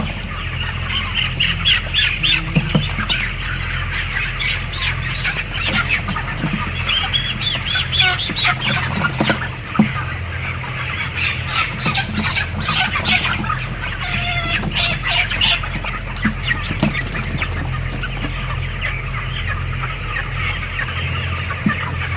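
Broiler chickens in a poultry shed, 26 days old and about 1800 g each, squawk and cluck nonstop as a dense, loud flock chorus with no talk over it.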